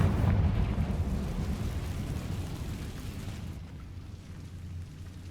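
A Confringo spell explosion goes off in the Hogwarts Legacy video game on PS5. It sounds like a heavy, booming rumble that is loud at first and then slowly fades into a low, lingering roar.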